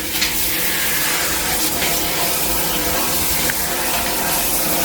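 Water from a shower head sprays steadily onto a dusty system air conditioner filter during cleaning, a loud continuous hiss with a few brief splashy bursts and no talking.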